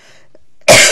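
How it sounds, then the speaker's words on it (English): A single harsh cough from a man recovering from flu bursts out loudly near the microphone after a moment of near silence. "Excuse me for coughing"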